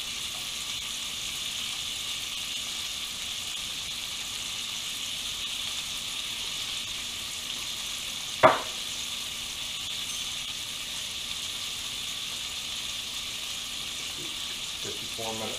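Steak fillets sizzle in olive oil in a cast-iron skillet, a steady close hiss running the whole time, broken once by a single sharp clack partway through.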